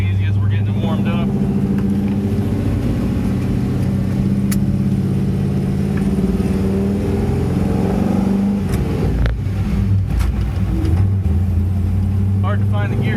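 A Squarebody truck engine warming up, with a loud, steady low rumble and slight shifts in pitch, continuous throughout at close range, with some rattling near the end.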